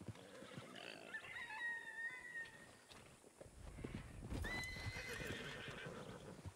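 A horse in a ranch-themed video game whinnies in several rising and falling calls, with clip-clopping hooves and a later sharp neigh, fairly close, with no voices.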